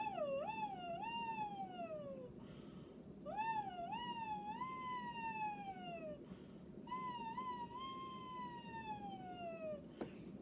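A voice imitates a siren, sliding up and down in three long wavering sweeps separated by short pauses.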